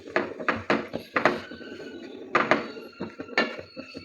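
Roasted cashews and almonds tip from a pan into a dish in a quick series of light clinks, rattles and thuds, close and fairly quiet, with brief pauses between the bursts.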